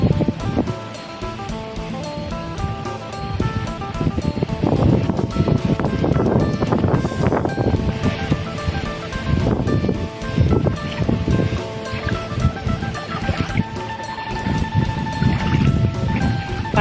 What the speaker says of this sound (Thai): ลำห้วยก็น่ากลัวมากค่ะ น้ำไหลเชี่ยวเลยเข้ามา